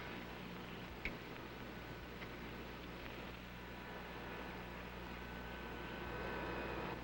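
A 1953 airliner's number 3 engine starting up, heard as a steady, faint broadband whine and rumble with a low hum that builds slightly toward the end.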